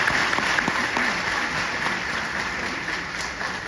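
Audience applause at a motivational speech in Sikkim, dense steady clapping from a crowd that holds at an even level throughout, with no talking over it.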